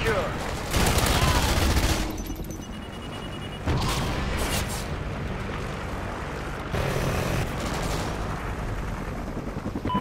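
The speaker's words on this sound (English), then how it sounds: "Friendly chopper inbound." In a Call of Duty Ghosts Domination match on Strikezone, a friendly helicopter drones low beneath dense, continuous bursts of automatic gunfire and booms. Loud, layered volleys carry on throughout, with game voice callouts mixed in.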